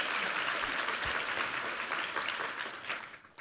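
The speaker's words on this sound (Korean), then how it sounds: "우리 하나님께 감사와 영광의 박수 올려드리겠습니다" A church congregation at a Sunday service claps together in a steady, dense wash of applause that holds and then fades out near the end, with no talking over it.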